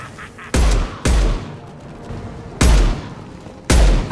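Gunfire in the PC video game Mass Effect: Legendary Edition: four loud, sharp bursts of shots, spaced irregularly, each cracking out and then dying away over a low background.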